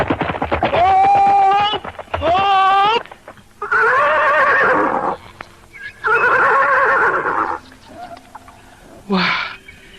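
Horses neigh and whinny in a radio drama sound effect, several loud close calls in sequence with a short final snort, set against faint hoof clopping.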